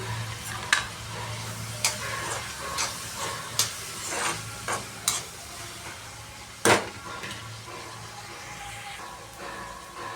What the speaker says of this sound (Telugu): రెండు రెమ్మలు కరివేపాకు వేసుకోవాలి